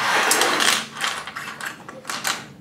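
Plastic keycaps being pried one after another off a HyperX mechanical keyboard, giving a close run of sharp clicks and scraping snaps in irregular bursts.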